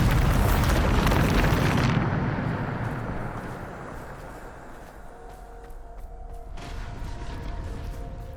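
Bombarda explosion spell in the Hogwarts Legacy video game, a loud, broad blast that rolls and rumbles away into a fading, roaring decay.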